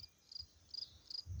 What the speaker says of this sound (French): On entend les grillons chanter, il y a pas mal d'insectes